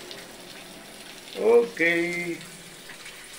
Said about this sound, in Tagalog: Ayan, pwede na mag-shower.